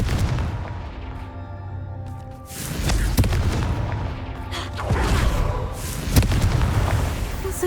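A Confringo blasting spell in Hogwarts Legacy sets off several booming explosions, deep and loud, with a rumbling tail and sharp cracks spread across the stretch.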